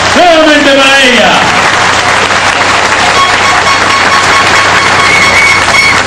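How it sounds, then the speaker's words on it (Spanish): Loud applause and crowd noise fill a birthday celebration for Keiko Fujimori, starting under a voice at the outset, then a dense sustained roar of clapping and cheering from a large gathering. "Un fuerte aplauso nuevamente para ella."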